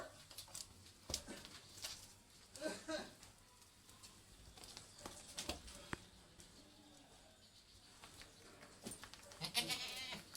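Goats bleat now and then amid a busy outdoor farmyard, with scattered knocks and rustles and a few louder calls near the end.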